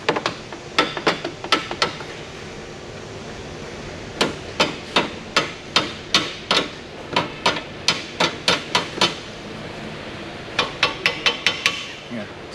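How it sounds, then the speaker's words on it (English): Small hammer tapping on an air-conditioning part of a 2019 Hyundai Kona with a refrigerant leak, sharp metallic taps in quick bursts of several strikes separated by pauses, close and distinct. "So just use your small hammer. Just tap it all the way up."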